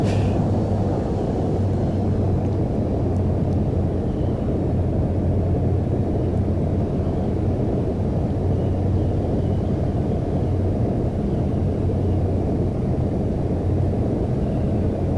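Constant, loud engine drone of an airplane in flight in Microsoft Flight Simulator X, a dense unbroken roar with a low steady hum and no talking.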